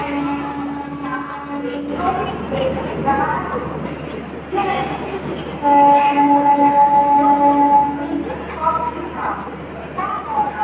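A new air-conditioned Chennai suburban local train pulls away from Tambaram station toward Chengalpattu after its doors close, with rising electric motor whine and rumble under nearby talk and platform chatter.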